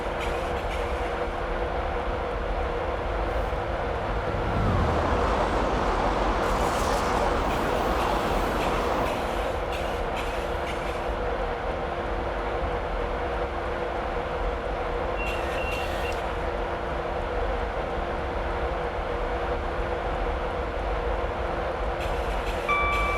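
A Class 91 electric train coasts with power idled on the East Coast Main Line between Newcastle and Edinburgh in Train Simulator 2016. A steady, close rolling rumble with a brief swell of noise partway through, no voices.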